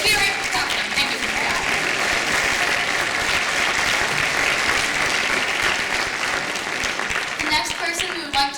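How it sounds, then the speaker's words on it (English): A school theater audience gives a round of applause for the sound crew after a middle school production of Newsies, with sustained, full clapping and some crowd noise throughout. "we'll give them a round of applause"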